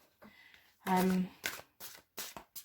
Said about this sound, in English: I'm just shuffling all of your energy into the cards